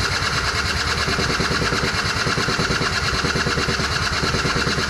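A 2003 Yamaha Zuma 50cc scooter engine runs loud and close, a steady continuous buzzing drone with no pauses; the engine is suspected of having a fuel problem.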